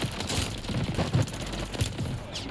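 FFAR rifle gunfire in the video game Warzone: rapid bursts of automatic shots rattling over a noisy battle background, fairly close and loud.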